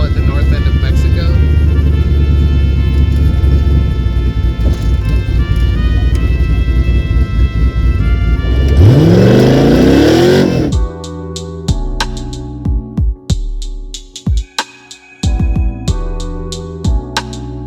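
A 1967 Ford Mustang with an LS V8 swap and a custom roll cage drives along, its steady engine drone swelling into a loud rising rev, then giving way to choppy cabin noise while people talk over it.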